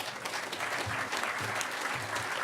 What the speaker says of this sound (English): And a round of applause for Kyle